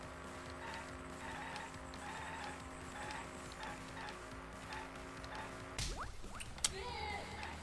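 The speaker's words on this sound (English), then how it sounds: "That nice smack noise of hitting a lady with your car" In the Danganronpa V3 video game, a car skids with a sharp, rising screech, followed by a brief smack of hitting a woman, heard over steady game music with a rhythmic beat.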